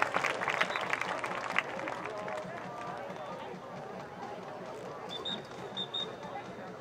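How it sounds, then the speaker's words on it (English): A crowd at a high school football game applauds in a brief burst of clapping and cheering that fades away, with a voice carrying over the noise. "Let's give a round of applause for Angel, Mr. Angel Jamini."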